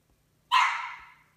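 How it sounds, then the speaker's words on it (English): A single puppy lets out one short, high yip that fades quickly, heard alone against silence. "Oh, puppies."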